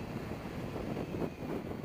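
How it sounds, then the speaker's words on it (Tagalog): Steady low rumble of strong wind rushing past the microphone while travelling on A. Soriano Highway, continuous and fairly quiet, with no voices. "Lakas ng hangin."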